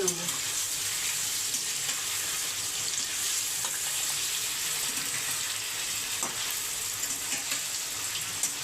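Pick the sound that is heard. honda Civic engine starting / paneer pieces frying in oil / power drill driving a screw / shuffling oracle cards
paneer pieces frying in oil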